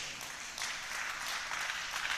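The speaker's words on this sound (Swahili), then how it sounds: "Pigie Bwana makofi" A church congregation at a Sunday morning service claps for the Lord, a soft, continuous patter of many hands that swells slightly after the first half second.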